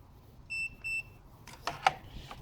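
A multimeter set to continuity emits two short, clean electronic beeps, followed by faint clicks and taps as probe leads are handled during car cruise control fuse diagnostics.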